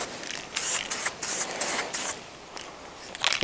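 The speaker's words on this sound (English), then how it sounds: "the fanning of this is just so much better than an aerosol" Lacquer sprays from an aerosol can in a series of short, close hissing bursts separated by brief pauses, with no talking.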